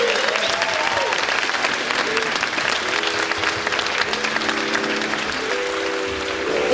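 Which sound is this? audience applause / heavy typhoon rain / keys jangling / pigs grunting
audience applause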